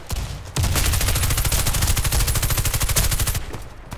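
Sustained automatic gunfire in the shooter game Warface, a loud rapid burst of shots running about three seconds without a break after a short opening shot.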